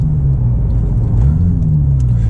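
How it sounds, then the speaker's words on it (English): A Porsche 996 GT2 driven through S-bends gives a deep, loud, continuous exhaust rumble from close by, steady throughout with no talking. "And you can really hear that exhaust too, and the exhaust sounds good."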